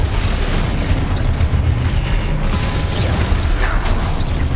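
Spell explosions in the Hogwarts Legacy video game, a dense run of booms, bursts and whooshes rolling together over a rumbling low backdrop, loud and continuous.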